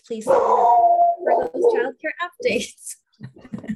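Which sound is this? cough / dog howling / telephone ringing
dog howling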